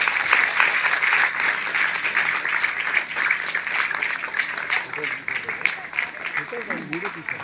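An audience that includes hostel children gives a burst of sustained clapping at a public event, a dense, steady wash of applause that holds for several seconds with some voices mixed in.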